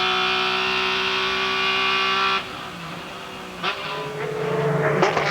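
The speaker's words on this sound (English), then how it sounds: "Beautiful on-board vision and sound from Hans Stuck" On-board engine of a Speed GT race car at Sebring International Speedway in 2003: a loud, steady high-revving drone that drops sharply off throttle, then rises again with downshift blips and renewed acceleration, with no voices.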